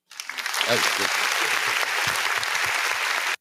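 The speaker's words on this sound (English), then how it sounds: "Give her a clap for that." An audience applauds a speaker in a sustained burst of dense clapping, with voices talking over the start of it.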